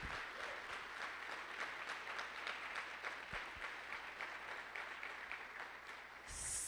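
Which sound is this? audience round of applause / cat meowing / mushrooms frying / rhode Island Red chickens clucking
audience round of applause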